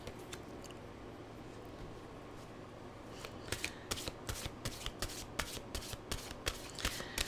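Mantra cards are shuffled alone, starting as faint riffling and building into a steady run of crisp, close snapping card flicks over quiet room tone.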